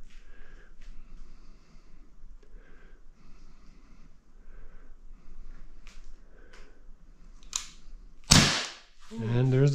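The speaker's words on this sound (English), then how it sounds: "And there's the first shot." A single sharp snap from a Glock 19 BB pistol rings out near the end, loud and close, after quiet background chatter.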